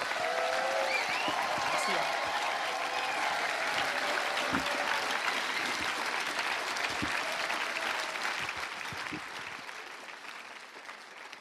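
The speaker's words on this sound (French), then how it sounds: "Là, on peut vraiment acclamer le Seigneur comme il se doit" A church congregation applauding and cheering at an evening worship service, with sustained, dense clapping that fills the room before slowly fading toward the end.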